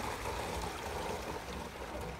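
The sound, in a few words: rainwater flowing into a storage tank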